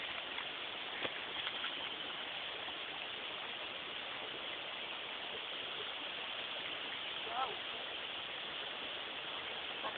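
A waterfall and stream on a steep climb up from a pool, heard as a constant broad rushing hiss, steady and moderately loud, with no pauses.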